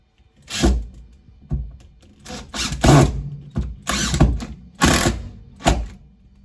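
A power drill drives in the last screw of a garage worktop in short, loud whirring bursts separated by pauses, close by with no talk.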